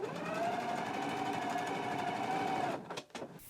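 A sewing machine stitches the waistband seams of a pair of shorts in one continuous fast run of whirring stitches, then stops, leaving a few brief clicks and handling sounds.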